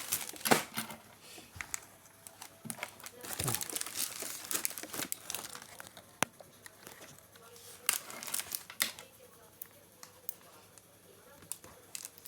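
A plastic package crinkles and rustles as an AliExpress order is unboxed. Sharp irregular crackles and handling noises repeat on and off at close range, fairly quiet, with no speech over them.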